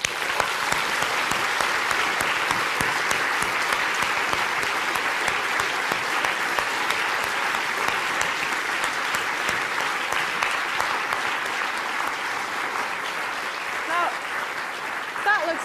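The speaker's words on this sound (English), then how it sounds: "I think we deserve to give the technical team that made that happen a huge round of applause" Sustained audience applause for a technical team at a home-technology talk, thick continuous clapping at an even level for around fifteen seconds, thinning slightly near the end.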